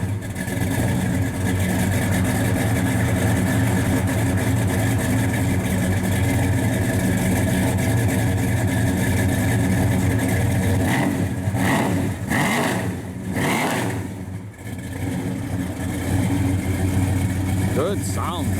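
A 1966 Chevrolet Chevelle SS 396 V8 rumbles at a loud, steady idle, then blips through a few brief revs near the end, with a faint voice talking underneath.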